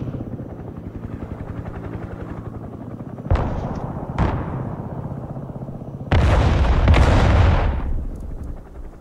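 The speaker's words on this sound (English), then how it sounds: "Artillery ready to fire, sir." Artillery fire in the war game Broken Arrow: over a constant droning engine rumble, two sharp booming shots ring out a second apart, then a heavier loud blast rolls and crackles for a couple of seconds before easing off.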